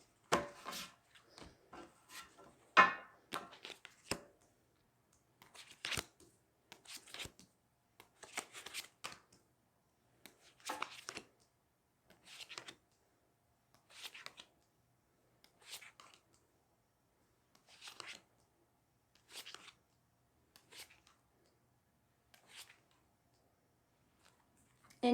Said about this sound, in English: You guys are getting really smooth shuffles